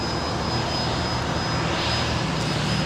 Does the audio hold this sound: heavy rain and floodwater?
no